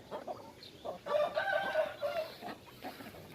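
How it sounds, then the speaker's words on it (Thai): Free-range chickens kept outdoors cluck, and a rooster crows, with a sustained crowing call rising mid-clip amid scattered clucks, moderately near with no talk. "ไก่พวกนี้ที่ปล่อยอยู่ข้างนอกเนี้ยเดี๋ยวกลางคืนมันก็จะไปนอนในเล้านู้นนะครับ"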